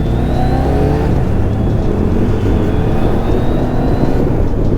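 Yamaha Niken three-wheeled motorcycle engine under throttle on a ride, a loud steady drone with a rising pitch as it accelerates, mixed with wind rush and heard up close.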